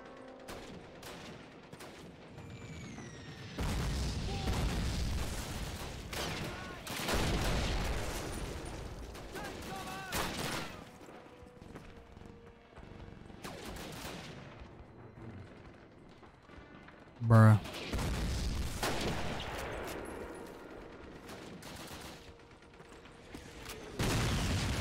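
Gunfire in the Call of Duty video game on Veteran difficulty, with repeated bursts of shots and loud impacts over steady battle noise and one sharp, louder crack midway.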